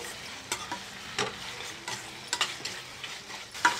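Ginger garlic paste fries and is stirred in a pan while cooking mutton keema: a steady soft sizzle with intermittent scraping stirs, close and alone with no voices.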